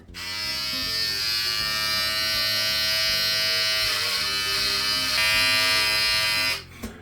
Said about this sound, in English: the electric trimmer makes it really easy to maintain a style like this